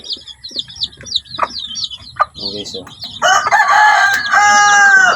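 Chickens, including a small mother hen, cluck and call in short repeated bursts, joined by a louder sustained crowing-like call near the end, with brief speech in the background.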